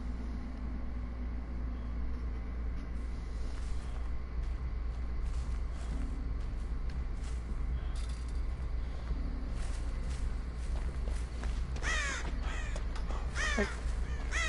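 Several crows caw in a Dead by Daylight match, their harsh calls clustering loudly in the later seconds over a steady low ambient drone of the game map.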